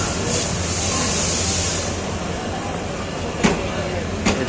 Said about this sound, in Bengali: এই যে বলতে বলতে ট্রেন চলে আসছে